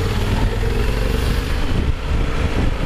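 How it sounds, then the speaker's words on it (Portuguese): Yamaha Super Ténéré 1200 motorcycle riding through São Paulo traffic: a steady, loud engine drone mixed with road and wind rumble from close by, with no clear voices. "Então eu prefiro até vir com a moto aqui, cara"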